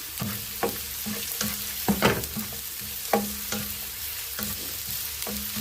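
Ginger and curry leaves fry in hot coconut oil for a sardine curry, a steady sizzle broken by several sharp scraping stirs of the spoon against the pan.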